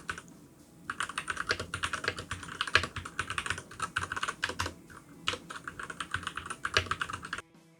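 Continuous typing on a keyboard fitted with Gateron Milky Top Yellow switches, steady clacking keystrokes in quick bursts with a short pause midway, close and moderately loud with no talking.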